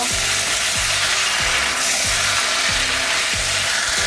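Ginger stir-fried in a hot pan, with a steady sizzle and frying hiss throughout and regular scraping strokes of a utensil about every half second, close and loud.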